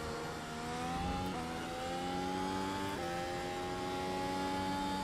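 Renault Clio Cup race car engine in iRacing drones loudly and steadily at high revs, with pitch climbing through two quick upshifts at a smooth, even level.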